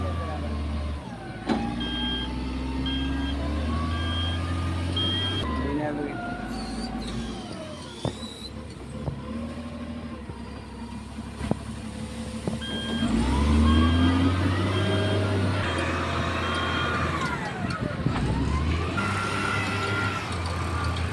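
A loaded truck's engine idles steadily, holding a low continuous rumble throughout, with a brief beeping sound in places and some shifting mechanical tones, before the vehicle sets off toward town.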